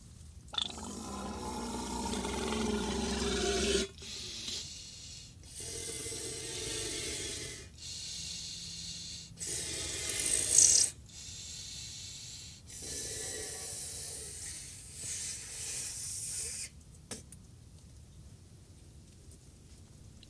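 Someone blows into a soaked bison cecum to inflate it into a ball, producing repeated bursts of breathy, rushing air separated by pauses, close and soft.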